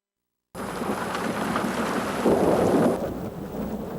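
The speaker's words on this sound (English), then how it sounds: "it rained the way it's supposed to rain." Steady rain pours after a sudden start, with a low rumble of thunder swelling midway, loud and close.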